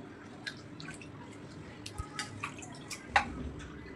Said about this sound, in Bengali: মুরগির মাংসটা কাটা হয়ে গিয়েছে, একটু ধুয়ে নিচ্ছি।